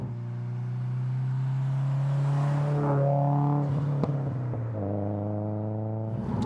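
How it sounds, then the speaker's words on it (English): A modified 560bhp 2015 Subaru Impreza WRX engine idles loudly and steadily up close, then revs up in a smooth swell and settles back to a deep, droning idle. "it is on that last front where this car does play to type, because it is rather loud"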